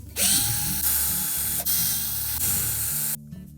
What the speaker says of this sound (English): You can then remove the 4 mounting bolts.